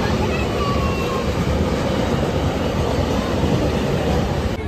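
A passenger train pulling into a station, a loud continuous rumble and roar close by with faint people in the background.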